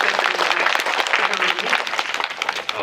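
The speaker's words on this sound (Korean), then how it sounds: "감독님께 큰 박수" A cinema audience at a post-screening talk for the film Hijack 1971 in a Lotte Cinema hall gives the director loud, dense, sustained applause that fills the room, with voices faint beneath it.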